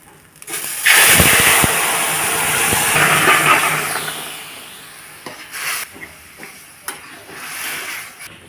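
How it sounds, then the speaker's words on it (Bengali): Leafy greens broth poured into a hot pan bursts into a loud, hissing sizzle that gradually settles into quieter bubbling and faint stirring clinks for a vegetarian greens dish. "এখন আমি শাকের ঝোলটাকে ঢেলে দেবো"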